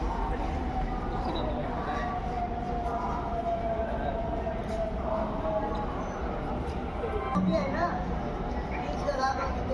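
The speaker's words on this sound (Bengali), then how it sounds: "এই দেখো মেট্রো ট্রেন চলে যাচ্ছে" A metro train runs past on an overhead track, a steady continuous rumble holding at an even level throughout, heard from street level nearby.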